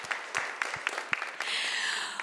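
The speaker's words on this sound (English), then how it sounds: "Let's give them one more round of applause." A small storytelling-festival audience claps in scattered, uneven bursts that thicken into a steadier round near the end, heard from a moderate distance.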